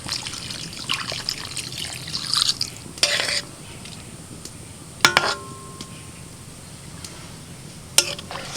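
Water is poured into a kadai holding hilsa fish, making a soft, steady close trickle with a few sharp metallic clinks and splashes scattered throughout.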